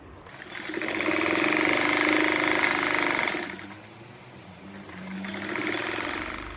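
A sewing machine stitches the ends of 5 cm wide fabric strips for a patchwork rug: a close, rapid mechanical whirring run of about three seconds, a brief pause, then a second shorter burst of stitching.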